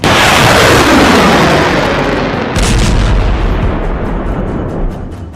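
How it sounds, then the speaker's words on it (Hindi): Heavy weapons fire on the Israel–Lebanon border, with anti-tank missile launches: a loud, sustained roar of blasts and rumbling that swells again midway and slowly fades, with no talk. "जब इजराइल और लेबनान के बॉर्डर पर एंटी टैंक मिसाइल फायर की जा रही है"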